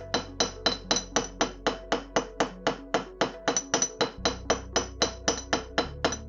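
Rapid, evenly spaced hammer strikes flatten wire for a wire-wrapped pendant, close and loud metallic taps repeating around twenty times without pause, no voices.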